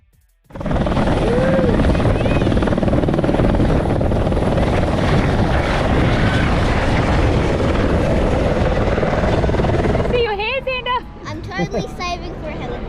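A helicopter roars loudly and steadily nearby for about ten seconds, then the noise drops and a voice talks over the fading rotor drone.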